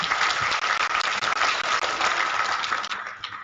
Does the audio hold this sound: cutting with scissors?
no